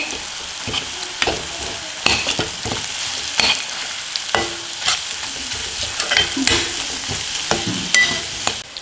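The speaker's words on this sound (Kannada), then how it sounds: "ಈಗ ರುಬ್ಬಿರುವಂತಹ ಈ ಪೇಸ್ಟನ್ನು ಹಾಕ್ಕೊಳ್ಳೋಣ ಇದನ್ನು ಮಿಕ್ಸ್ ಮಾಡ್ಕೋಬೇಕು" Ground garlic paste stirred into softened, browned onions in a hot pan, with a steady close sizzle and irregular scraping spoon strokes throughout; no talking.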